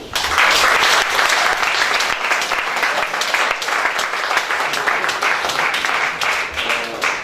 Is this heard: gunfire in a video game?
no